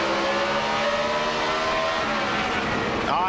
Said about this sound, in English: He jumped on the brakes so hard, you can hear that boom, boom, boom, boom.